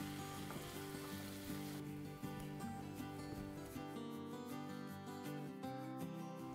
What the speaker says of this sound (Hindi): बस यही टाइम पे मैं डाल देती हूँ ये नूडल्स इसके अंदर और नूडल्स को मिक्स कर लेते हैं।